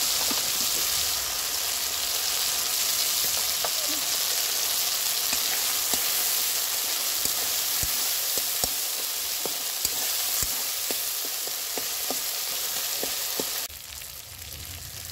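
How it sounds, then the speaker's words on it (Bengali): Spice paste for a pabda fish curry sizzling and frying in a pan, a steady close hiss with frequent small stirring scrapes and ticks running throughout, ending as the sizzle abruptly drops. "মশলাটা আমার ভালোভাবে কষিয়ে নেওয়া হয়ে গেছে"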